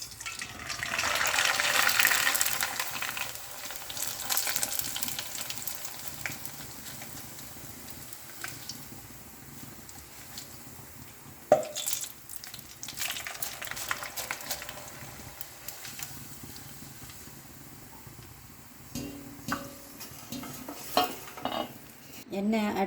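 Rice vermicelli hisses loudly as it hits a shallow layer of hot oil, a burst of sizzle that settles into quieter crackling and stirring, then a sharp knock and renewed sizzling as more noodles go in.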